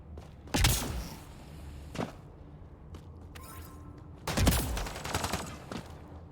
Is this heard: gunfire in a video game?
yes